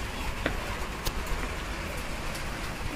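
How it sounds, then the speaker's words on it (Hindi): Rain falls steadily onto surfaces nearby, a dense hiss dotted with a few sharper drips and taps, without any talking. "देखिए दोस्तों कितनी अच्छी बारिश हो रही है"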